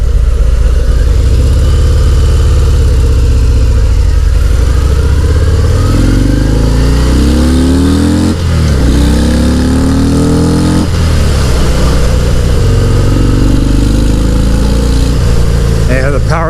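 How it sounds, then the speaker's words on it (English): A 2019 Harley-Davidson FXDR 114 ridden on the road, its engine a loud, steady low rumble that rises and falls through several revving pulls and gear changes, under heavy wind buffeting throughout. "And the power of this bike is raw."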